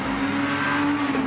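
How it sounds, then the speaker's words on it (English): Honda VTEC engine holds a brief, steady high rev, a loud continuous whine heard close up for just over a second. "The sound you're hearing here comes from the infamous Honda variable valve timing and lift electronic control"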